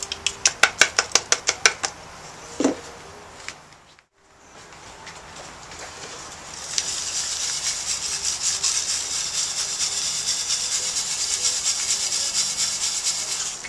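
Mason bee cocoons in sand being shaken through a coarse sieve: a burst of sharp rattling taps at first, then a brief pause, followed by a continuous loud hissing, rustling pour of grains.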